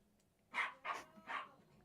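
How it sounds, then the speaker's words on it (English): Three short dog barks sound from just outside a door, moderately close and spaced evenly, with no voices. "I got these fucking dogs here"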